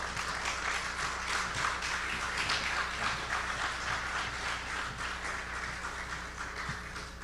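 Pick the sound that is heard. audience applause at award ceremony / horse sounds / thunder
audience applause at award ceremony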